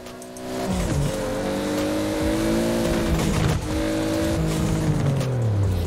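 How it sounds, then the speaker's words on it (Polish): A car's standard engine in the racing game Forza Horizon 4 drones steadily and shifts pitch as it revs and changes gears, loud and close, with no voices. "posłuchajmy go trochę, bo to jest standardowy silnik"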